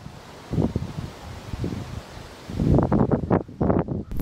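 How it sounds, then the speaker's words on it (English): Gusty wind buffeting an outdoor microphone, rumbling low and uneven, with sharper, louder blasts after a brief lull. "The wind."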